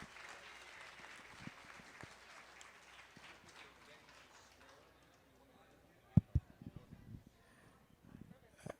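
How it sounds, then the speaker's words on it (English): Applause for the judge at a youth market steer and beef livestock show at a county fair, a dense patter of clapping that fades after a few seconds, followed by scattered claps and knocks in a quieter arena. "Let's give him a big round of applause."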